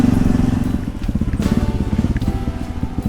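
A motorcycle pulls up at a rural home in Thailand, its engine close and loud with a steady, throbbing low putter that pulses rapidly throughout.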